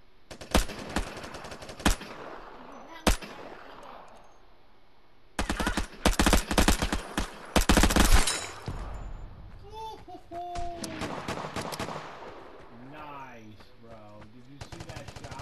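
Gunfire in the video game Vigor: isolated sharp shots early on, then loud bursts of automatic fire in the middle, with players talking and game noises in the later part.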